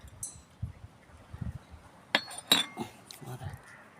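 A spoon stirs sugar and cardamom into cake batter in a bowl, making light scraping strokes and a few sharp metallic clinks against the rim, close and fairly quiet.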